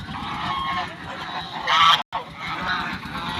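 Several waterfowl honk and quack together in a loud, continuous chorus nearby, broken by a brief cut to silence.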